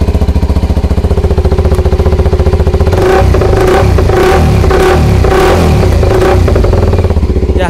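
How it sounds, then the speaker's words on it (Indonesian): A two-cylinder sport motorcycle with its exhaust baffle missing idles with a loud, steady throb, then revs repeatedly in sharp bursts, close by and alone. "Itu suaranya ya, sarangannya knalpot enggak ada."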